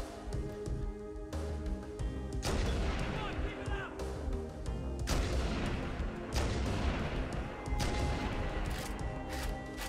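Rapid gunfire and heavy blasts from combat in the Halo Anniversary Edition video game, mission Truth and Reconciliation, firing in dense repeated bursts through the whole stretch with game noise behind.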